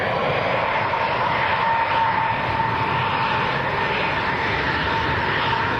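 KLM passenger airliner at Leeds Bradford Airport, its engines a steady, loud broadband roar with a faint whine, continuous and unchanging throughout with no talk.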